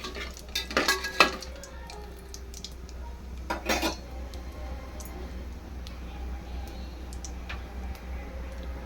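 Cumin and cinnamon frying in a pot for egg biryani, with a faint steady sizzle under sharp clinks of a metal utensil against the pot, busiest in the first second and again near four seconds.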